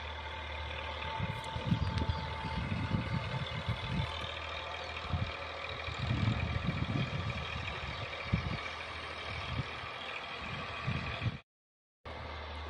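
An Eicher 485 tractor engine runs with a Soilking rotavator attached, giving a steady, droning mid-pitched rumble with irregular low thumps throughout, briefly cutting out near the end.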